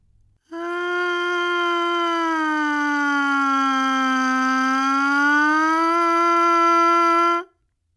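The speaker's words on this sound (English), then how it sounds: "Now listen as Chelsea demonstrates this again on the mouthpiece" Trumpet mouthpiece buzzed alone in a siren exercise, one sustained loud tone that glides slowly down and back up in pitch for about seven seconds, then stops.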